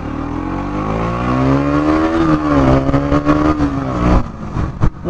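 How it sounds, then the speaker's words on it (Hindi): A 2021 KTM Duke 125 with its 128 cc engine pulls away hard from low speed, a close, rising engine drone holding steady and climbing before a few sharp gear-change dips near the end, with no talking. "अभी मैं इसका इनिशियल पिकअप एक बार चेक करूंगा"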